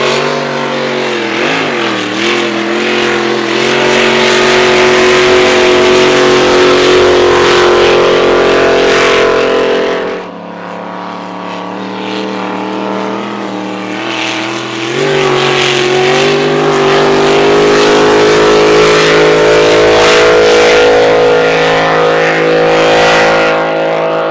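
A loud, high-revving racing boat engine on the water at the 2024 Windsor Spectacular drones and climbs in pitch, briefly dropping off before roaring back up, sustained throughout.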